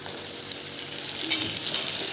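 Chopped potato pieces frying in a pan give off a steady, bright hiss of hot oil, close and fairly loud, with a slight swell in the sizzle toward the end and no voices.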